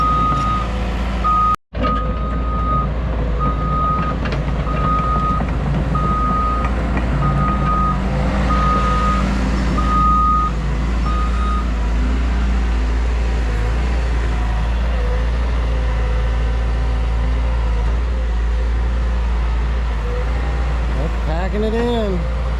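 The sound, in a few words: Caterpillar heavy equipment digging with reversing beeps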